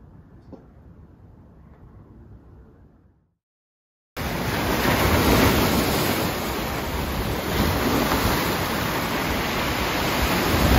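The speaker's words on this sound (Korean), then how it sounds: "파도 소리가 너무너무 좋더라고요" Ocean surf rolling in at a seaside campsite after rain, loud and steady with a continuous wash of breaking waves, following a few seconds of quiet ambience and a brief silence.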